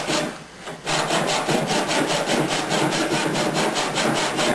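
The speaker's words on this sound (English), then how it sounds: "Now I'm cutting down through the hull panel now too." A hand saw cuts through a wooden boat hull panel in steady, rapid back-and-forth strokes, close and loud, with a brief pause before the rhythmic rasping resumes and continues without talk.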